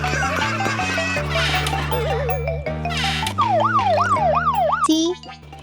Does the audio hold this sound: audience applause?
no